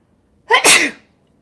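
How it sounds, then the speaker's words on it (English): One sharp, loud sneeze from a person while painting a pet portrait, a quick inhale followed by a burst, close to the microphone in an otherwise quiet room. "Oh, apparently I'm gonna sneeze."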